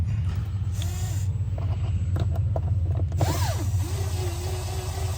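A screw spins without tightening in a stripped hole in a plastic air filter housing, giving a soft ratcheting and clicking from a powered driver. A low engine-like hum runs underneath, with short squeaky tones, and no one talks.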